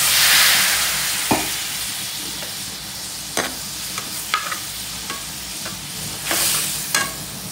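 A spice masala of chilli, turmeric, cumin and coriander powders sizzles in a pan after a splash of water, hissing steadily with occasional clicks and scrapes of stirring, close up and without talk.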